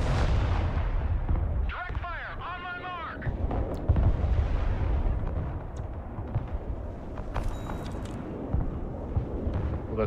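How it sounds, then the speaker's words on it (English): Rocket artillery firing in the war strategy game Broken Arrow, a dense rumbling barrage of launches and booms with whooshing bursts, continuous and loud, while someone talks over it. "Rocket artillery standing by"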